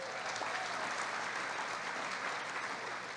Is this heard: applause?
yes